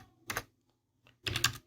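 Keys tapped on a computer keyboard while entering a number in an MS Word document, heard as two brief clusters of close clicks separated by a short pause.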